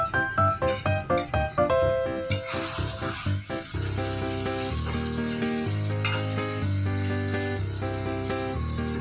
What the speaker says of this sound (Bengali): ভালো করে যত কষা হবে তত চিকেনটা খেতে টেস্টি হবে